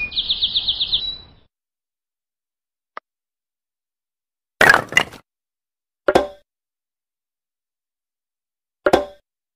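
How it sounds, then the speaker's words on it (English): Short bird chirps from a children's matching game for ages 2-5: a rapid trill at the start, then a few separate tweets spaced across a quiet background, with no talk. "Birds."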